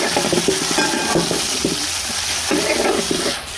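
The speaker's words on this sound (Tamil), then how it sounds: "இந்த வெங்காயத்தோடு இப்போ வதக்குறோம்" Garlic and shallots, with onion, sauté in a pan for a black fish curry, giving a steady close sizzle with scraping stir strokes throughout, no talk.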